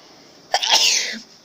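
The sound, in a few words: sneeze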